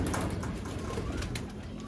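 Soft, low cooing from golden pigeons murmurs continuously amid a dense, noisy background, as if many birds are gathered nearby.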